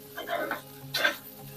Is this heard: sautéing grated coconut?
yes